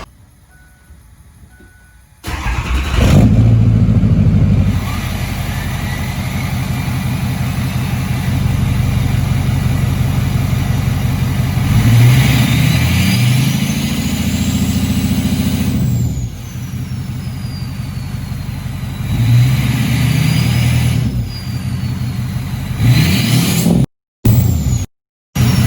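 A 6.0 Powerstroke diesel truck engine fitted with an MBRP 5-inch straight pipe rumbles loud and close, starting abruptly and holding a deep steady idle with a few swelling revs, then cutting out briefly near the end.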